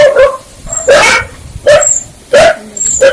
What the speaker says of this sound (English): dogs are happy.